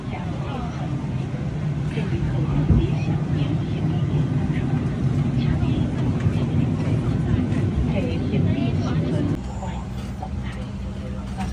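Inside the cabin of a Xiamen Air Boeing 737-800: a steady low rumble and broadband roar of aircraft noise fills the whole stretch, with voices talking throughout.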